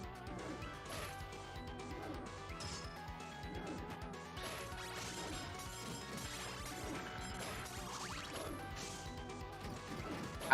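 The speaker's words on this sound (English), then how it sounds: "How many games and or other media have you heard that glass breaking sound in?" Dense clattering crashes of the glass-breaking sound effect in Castlevania The Adventure ReBirth, repeating in rapid bursts over game music for about ten seconds, fairly quiet.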